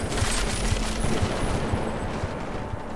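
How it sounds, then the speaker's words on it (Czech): Rapid gunfire in the video game Deus Ex: Mankind Divided, a dense, continuous barrage of automatic shots and bursts filling the scene loudly with no talk over it. "Střílí se tady naprosto všude."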